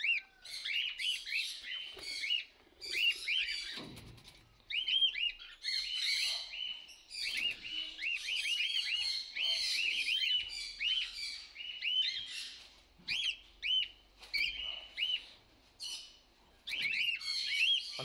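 Birds chirp and tweet busily right after their release, many overlapping high calls in quick bursts, close and fairly loud, with brief pauses between flurries.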